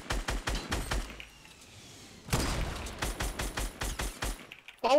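Fortnite hunting rifle gunfire, with many sharp in-game shots in quick succession, a short lull, then more sharp cracks near and loud in a chaotic firefight.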